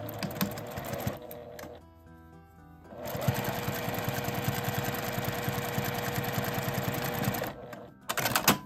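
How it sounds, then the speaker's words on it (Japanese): A sewing machine stitches along the folded-in turning opening of a lined mini tote bag made of Indian cotton seersucker. Rapid stitching runs in bursts, pauses briefly, then resumes as a steady close whir. "返し口を内側に折って端を縫います。"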